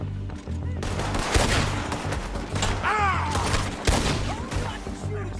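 Rapid bursts of gunfire crack through a Red Dead Redemption 2 shootout, several loud overlapping shots and ricochets over game ambience and occasional voices.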